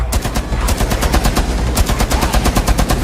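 Mounted LMG in Rainbow Six Siege firing a sustained automatic burst, loud rapid shots in a fast regular rhythm with a short gap near the middle, close and alone without talk.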